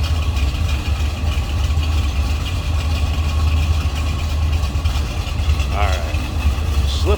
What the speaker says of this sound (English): Good sound. Not too crazy in the cam, but just enough.